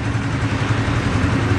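A brand-new motorcycle with about 500 km on it idles while warming up, a steady close low engine rumble with an even throbbing pulse, loud and unbroken with no talk.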